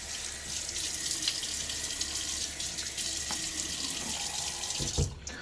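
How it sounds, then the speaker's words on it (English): A tap runs steadily into a sink with continuous hissing water, ending with a couple of close splashes as water is splashed onto a face. "Get water on my face."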